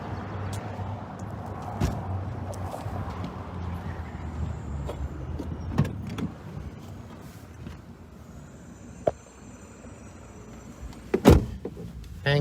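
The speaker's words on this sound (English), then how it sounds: "I'm going to jump back in the truck and I'm going to go around the block." A police officer climbs back into his truck: low engine idle and road rumble, scattered door clunks and thumps, a soft whine like a power window, and a louder door slam near the end.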